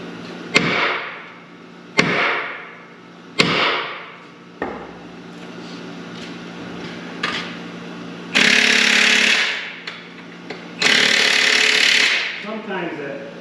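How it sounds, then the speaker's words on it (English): Three sharp, loud metal whacks land about a second and a half apart, each ringing briefly. Two longer bursts of grinding noise follow later, and a person talks in between. "we're just gonna give that a couple of good whacks here."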